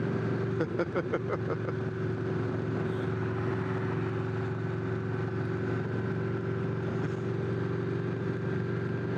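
A Victory V92C motorcycle engine under way, a steady loud drone with a brief burst of rapid pulsing near the start as it shifts into gear and pulls, holding an even roar throughout.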